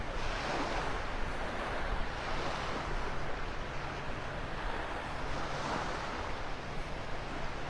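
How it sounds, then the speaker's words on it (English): Surf washes onto the beach at Delnor-Wiggins Pass State Park in North Naples, Florida, at sunset, a constant broad roar of breaking waves mixed with wind buffeting the microphone. "Just making my way north up the beach at Delnor-Wiggins Pass State Park, up to Wiggins Pass"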